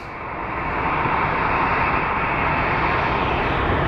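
An American Airlines airliner at Phoenix Sky Harbor Airport, its steady, loud, broadband engine roar swelling in and holding close and constant throughout.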